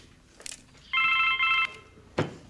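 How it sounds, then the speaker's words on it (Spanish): A mobile phone rings in two pulsing electronic bursts over a low background hum, followed by a short sharp knock. "me suena el celular. Dame un minuto."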